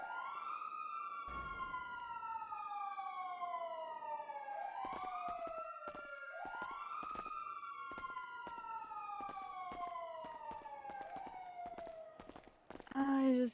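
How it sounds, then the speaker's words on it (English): Police siren in a GTA roleplay game, rising and falling in repeated wails close by, with rapid tapping and footstep-like clicks throughout and a burst of noise at the end; soft talking underneath. "The sirens never stop."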